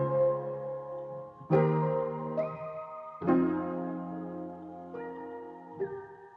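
Synth keys layered with a piano sample, pitched up and soaked in reverb, play slow sustained chords with a few higher notes added on top, smeared into a hazy, moderately quiet pad without any talking.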